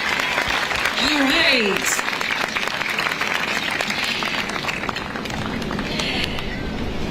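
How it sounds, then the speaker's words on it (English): Audience applause for a city council at a 2023 inauguration ceremony, sustained clapping filling the space while a voice speaks briefly near the start. "Can we give him another round of applause for our City Council?"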